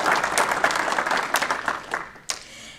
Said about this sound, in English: Please give Ms. Irvin a round of applause